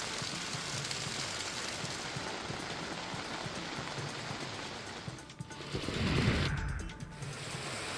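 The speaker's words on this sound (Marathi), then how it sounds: "पहाटेपासून जोरदार पाऊस सुरू आहे" Steady heavy rain falls through the Vidarbha dawn, a dense continuous hiss with a brief swell of louder rumble partway through, with no voices.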